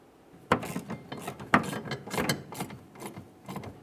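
Ratchet tightening 10mm mounting nuts on the fuel pump cover of a 1998-2011 Ford Ranger 2.3L, with several close, distinct bursts of clicking pawl strokes repeating in an uneven rhythm.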